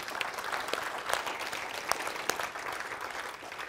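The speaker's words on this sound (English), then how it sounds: "You can clap for that." Applause from a conference audience at an Ignite Summit session fills the room as a steady wash of many hands clapping, moderately distant and fairly quiet, with a few sharper claps standing out.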